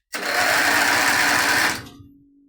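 Countax garden tractor engine cranking without catching, a loud, steady whirring starter churn lasting under two seconds, then cutting off with a fading hum.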